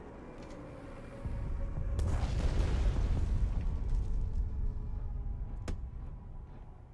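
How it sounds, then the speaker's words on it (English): Carpet bombing in the card game KARDS erupts as a heavy, sustained rumble of overlapping low explosions that swells after a quieter start and holds steady, with a sharp crack near the end. "Definitely carpet bombing now."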